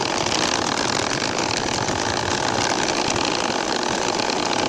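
An ordinary household sewing machine stitches a large nakshi kantha quilt with a dense, continuous mechanical whir and rattle. The sound is close, steady and loud, with no talking.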